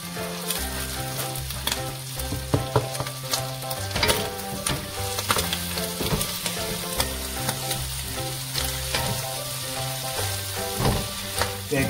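Frito mallorquín with fennel frying in a pan, a loud, steady sizzle with scraping stirs and clinks over a busy musical background, with no voices.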